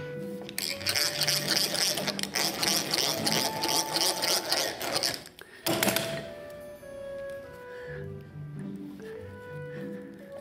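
A tool cutting a flat onto a metal screw makes a steady, loud buzzing rattle for about five seconds. A sharp clunk follows, then a fading machine whine with lower rumbling.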